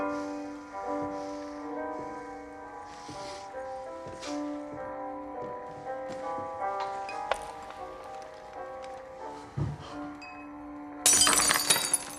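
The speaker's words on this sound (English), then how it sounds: "If I drop a glass on the floor, you pick it up." A drinking glass is dropped and breaks on a floor, ending in a sudden bright crash and scattering shards. Before it, sustained music plays with a few faint clinks.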